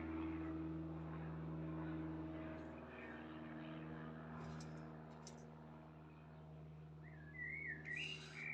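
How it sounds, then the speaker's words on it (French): A small propeller airplane passes overhead with a steady, distant low droning hum that slowly swells and fades, while a few faint bird chirps sound near the end. "Ah, un petit avion."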